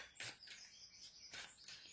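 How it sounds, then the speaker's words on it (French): Small birds singing outdoors, a few faint, distant, high chirps in quick succession. "il y a les petits oiseaux qui chantent aujourd'hui"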